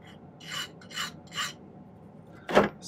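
Short rasping file strokes smoothing the cut end of silver bezel wire for a blue topaz pendant, three even strokes then a sharper final scrape, close and dry with no talk.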